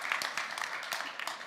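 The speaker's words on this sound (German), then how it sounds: "Sie dürfen klatschen" Audience applause at a CeBIT Switzerland summit panel dialogue, a faint scatter of hand claps heard from a distance with an uneven rhythm.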